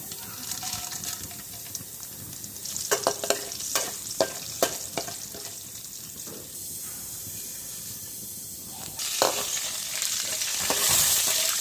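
Brinjal pieces sizzling in hot oil, with steady crackle, several sharp scraping stir strokes in the middle and a rising hiss of fresh frying near the end.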